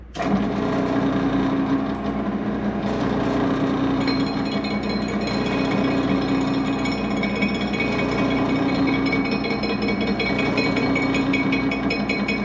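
Metal lathe turning a part on an SXR800 Bullett racing repair job without tailstock support, giving a steady, loud mechanical whir with a rattling, chattering buzz that runs continuously throughout.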